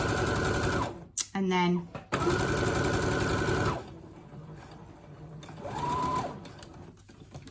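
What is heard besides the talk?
sewing machine stitching around a napkin edge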